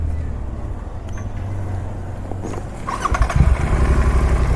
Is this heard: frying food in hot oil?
no